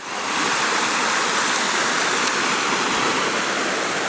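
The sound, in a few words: small waterfalls and stream in a gully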